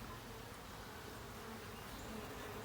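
A package of honeybees buzzes steadily around a caged queen, a close, continuous hum without pauses or speech.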